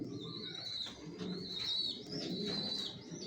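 Pigeons settling into a new breeding loft give off a steady chorus of low coos, with a few brighter chirps and calls layered above, moderately close and uninterrupted by talk.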